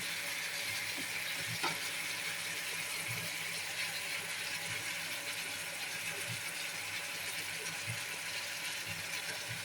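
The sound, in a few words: shrimp and vegetables sizzling while being sautéed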